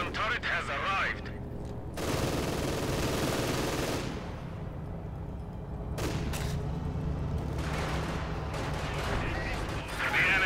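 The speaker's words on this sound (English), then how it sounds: "50 caliber machine gun turret has arrived." A .50 caliber machine gun turret fires in the Company of Heroes 2 battle game, two long roaring stretches of dense automatic gunfire with a short lull between, and a voice sometimes over the din.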